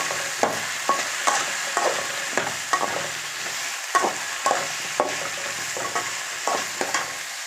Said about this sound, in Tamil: தக்காளி வதங்கணும். இது போட்டு நல்லா ஒரு 2 நிமிஷம் பரட்டிக்கலாம்.